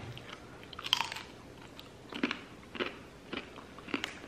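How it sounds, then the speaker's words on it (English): Beef sirloin carnivore crisps, crunchy meat chips, are bitten and chewed up close, giving several crisp crunches spaced a second or so apart with quieter chewing between them. "It crunches."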